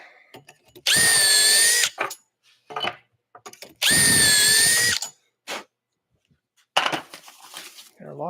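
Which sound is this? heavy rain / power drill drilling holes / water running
power drill drilling holes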